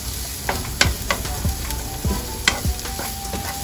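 Ingredients for jjamppong pasta sauté in a hot pan, giving a steady sizzle with repeated scraping and stirring clatters from a utensil, close and moderately loud, no talking.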